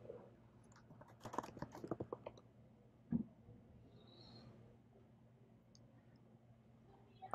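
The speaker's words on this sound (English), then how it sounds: "he will click on Search Recipes, and we will type it in here" Faint, quick bursts of computer key taps as a recipe search is typed, a rapid cluster of clicks followed by a single sharper click and quiet room hum.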